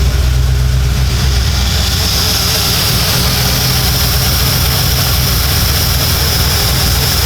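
An Audi engine idling roughly nearby, a loud, low, continuous rumble that holds steady throughout.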